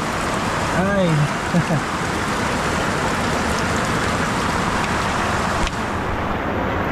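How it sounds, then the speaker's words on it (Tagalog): Heavy rain pours steadily at a house construction site with deep dug holes, a dense continuous hiss throughout, with a brief voiced exclamation near the start. "tapos ganito kalakas yung ulan."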